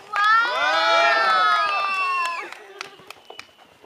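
Cheering crowd at a CWF wrestling show greets the referee, voices rising in loud shouts and whoops with children's cries for about two and a half seconds, then fading into scattered claps and calls.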